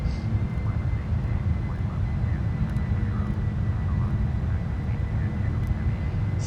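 Engines of a PMDG Boeing 747-400 freighter climb in the Prepar3D flight simulator, a steady, loud jet roar with a broad low rumble held evenly throughout, with faint cockpit clicks over it.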